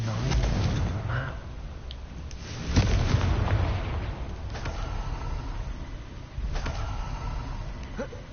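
In the wizarding game Hogwarts Legacy, a Confringo fire spell explodes with booming blasts: a heavy burst near the middle, then a second, lighter one later, over a steady rumbling background.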